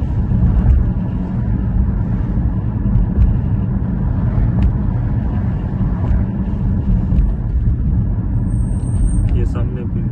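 Steady roar of busy road traffic on a street in the UK, a continuous near wash of passing cars with little break.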